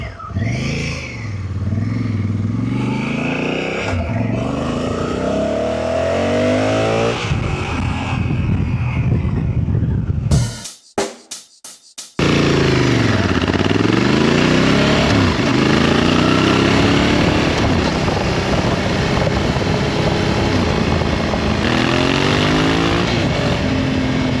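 A 2024 Honda Africa Twin with a Termignoni aftermarket exhaust rides and revs loudly through gears, engine pitch rising and falling, with a brief choppy dropout midway.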